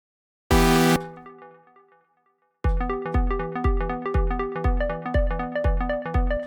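A U-He Diva software synthesizer plays a short sustained chord that fades, then a swung pattern of plucky repeated notes with a lilting, uneven rhythm, clear and alone.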